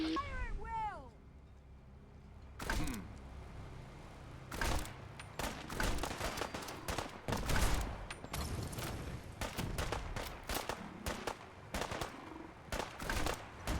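Gunfire in the Fallout 4 video game during a fight in fog: repeated loud sharp shots and bursts crackling over several seconds, with people shouting and talking in between.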